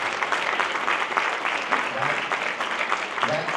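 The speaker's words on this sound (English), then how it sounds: "If you'll give them a round of applause" Guests at a community chamber of commerce dinner applaud honored local leaders with a continuous, even round of clapping from a large room, with a faint murmur of voices underneath.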